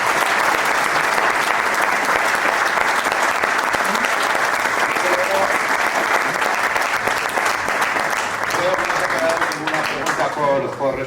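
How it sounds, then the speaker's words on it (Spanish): An audience at a Spanish-language question-and-answer session bursts into loud, steady applause that holds for about ten seconds, with murmuring voices surfacing beneath the clapping as it thins near the end. "Muy bien, pues un aplauso."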